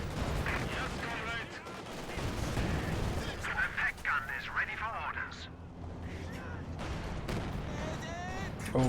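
Tank cannon shots and surrounding battle fire in Company of Heroes 2, a World War II strategy game, booming impacts and crackling fire mixed with game effects, heard under continuous voices.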